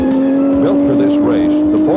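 Turbocharged Porsche race car, a modified 914 with a 345-cubic-inch engine making 500 horsepower, at a desert road race, holding a steady loud engine drone that rises in pitch as it accelerates, with voices talking over it.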